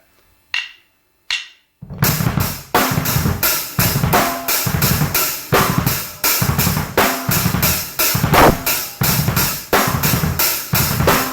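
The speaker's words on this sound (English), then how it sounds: "I'm going to play this 5/16 phrase on the bass drum that I've been playing on the snare." Two stick clicks, then a full drum kit plays a busy layered polymeter groove, a 5/16 phrase on thumping bass drum under steady cymbal hits, loud and close.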